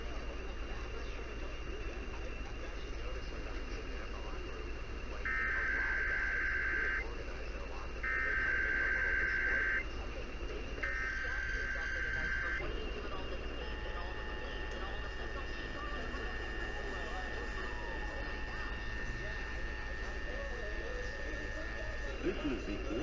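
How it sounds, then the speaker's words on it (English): Monthly Emergency Alert System test on radio: three short bursts of piercing data tones in a row, followed by a long steady attention tone, all over faint background broadcast noise. "And now we do our monthly EAS test."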